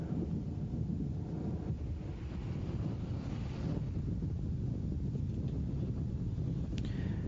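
Steady, loud wind buffets the microphone throughout, a continuous rushing roar along a triathlon bike course at a World Cup race in Auckland.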